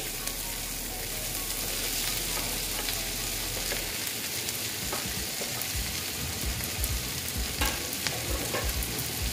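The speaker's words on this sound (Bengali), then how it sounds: "ঢেঁড়সটা দিয়ে আমি আবার এইগুলো দিয়ে ভেজে নেব।" Okra frying in a pan, a dense continuous sizzle heard close up, with a low hum at the start and intermittent scraping and clicking of stirring over the crackle.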